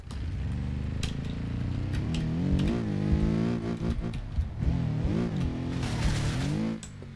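Engine of a car in a driving video game revving and shifting pitch continuously, rising and falling with acceleration, loud and close throughout with no talking.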